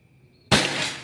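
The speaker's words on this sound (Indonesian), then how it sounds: "Tembakan keempat." A single sharp air rifle shot from a Predator Pajero Gun Gen 6 during an accuracy test, an abrupt loud crack after a quiet moment with a short decaying tail.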